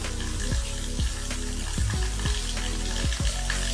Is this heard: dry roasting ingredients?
yes